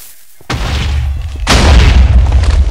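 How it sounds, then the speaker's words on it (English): Two deep booming blasts, the second louder and rumbling longer, like cannon fire in the video game Super Pirate Battle Royale. "Fire the cannon!"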